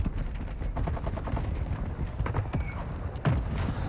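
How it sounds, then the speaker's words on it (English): Horse hooves clip-clopping at a gallop in the video game Warzone 2, a fast steady drumming of hoofbeats running throughout amid gunfire and game noise. "Hostile horse right near your position."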